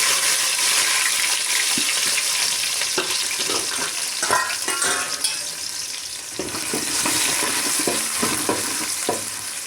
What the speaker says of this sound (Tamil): வெங்காயம் வெங்காயம் போட்டுருவோம் அதில் மல்லி இலையும் போட்டுருவோம்